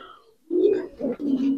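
Giribaz coloring pigeon cooing close by in a few soft, throaty bursts, low and rounded, with brief pauses between them and no talk.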